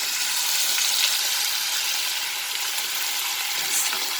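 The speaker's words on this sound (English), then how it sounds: "now I will fry these potatoes" Chopped potatoes fry in a hot pan of oil for matar ghugni, giving a steady, even sizzle that holds close and constant throughout with no talking.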